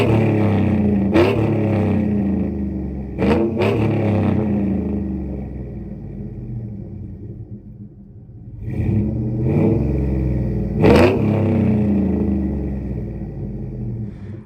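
A pickup truck fitted with a Flowmaster exhaust revs in tow-haul mode, its deep throaty rumble swelling in several loud bursts with quieter idling between, close and unaccompanied by talk.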